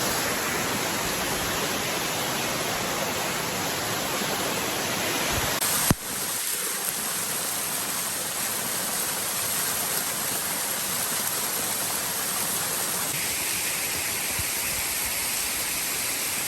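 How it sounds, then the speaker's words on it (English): Big jungle waterfall, a constant broad hiss of falling water, fairly distant and even, with a sharp knock interrupting it midway and no speech heard. "And behind us is a big waterfall."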